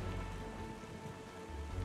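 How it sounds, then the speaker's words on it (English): Steady rain hisses down in Wind Waker HD, a soft continuous wash with no voices. "It would be great if this rain stops so we get a better freaking view."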